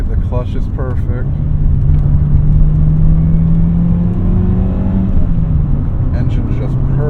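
A classic Honda car's engine runs steadily while driving, a smooth low hum that rises slightly as it accelerates, with brief voices near the start and end.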